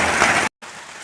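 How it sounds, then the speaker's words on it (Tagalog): Heavy rain pouring down as a dense, loud hiss, abruptly cut off by a short silence and then resuming more faintly. "kasi ulan umulan na dito kaya tigil muna tayo"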